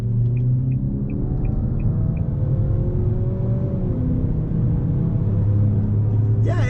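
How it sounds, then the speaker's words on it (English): A Nissan Altima accelerating, heard from inside the cabin as a loud, steady engine rumble and drone that climbs gradually in pitch, with road noise underneath. "Let's do a little acceleration here."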